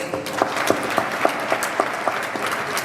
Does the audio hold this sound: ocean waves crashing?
no